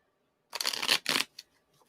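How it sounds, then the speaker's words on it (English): A deck of tarot cards is shuffled in two quick riffling bursts, crisp and close, followed by a few faint taps and slides as the deck settles, with no voices. "And still shuffling for Rocky."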